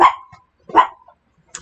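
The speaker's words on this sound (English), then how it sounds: "I'm going to pause it for one sec because she's going to bark and bark." A pet dog barks twice, sharp and close, with a short pause between the barks and near silence around them.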